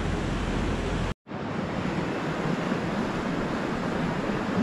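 Fast-flowing creek rushing steadily outdoors, a broad continuous wash of water noise with a brief dropout early on, no voices.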